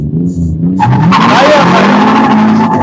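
Drift cars on a new car market lot in Armenia, a right-hand-drive against a left-hand-drive car, squeal their tires and roar their engines. The loud skidding swells over steady crowd and commentary noise.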